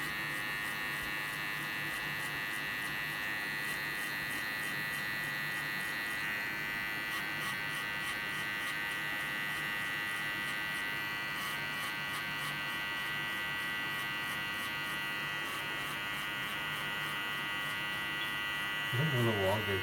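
An electric hair clipper buzzes steadily and close while cutting a bald fade at a barbershop, its drone running continuously under intermittent conversation.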